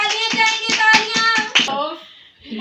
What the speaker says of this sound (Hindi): शाबाश बाजी के लिए तालियां जाएंगे तालियां